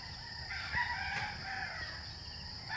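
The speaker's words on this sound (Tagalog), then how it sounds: "Dami manok." Chickens and roosters crowing around a rural Philippine house site where a cyclone wire fence is being built, a steady mid-distance crowing that carries on for several seconds over faint background noise.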